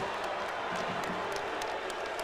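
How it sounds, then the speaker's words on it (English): A packed crowd at a 1985 Syracuse vs DePaul NCAA tournament basketball game roars in reaction to a goaltending call, a dense, loud, continuous wash of noise with faint voices mixed in. "Listen to this crowd."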